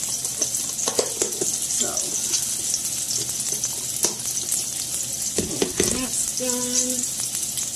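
Precooked sausage warming in a frying pan sizzles steadily, close and continuous, with a few utensil clinks and a brief spoken remark over the frying.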